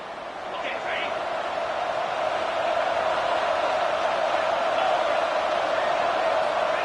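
A stadium crowd roars steadily at a college football game, a dense sustained wall of noise with a commentator talking over it.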